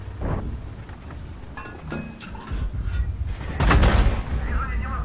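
An artillery shell strikes an Object 780 tank in a tank battle game, landing as a deep heavy boom with rumbling, layered explosion noise, loud and close, among other in-game impacts and engine rumble.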